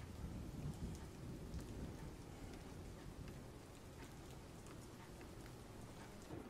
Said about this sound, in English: But the rain is also nice.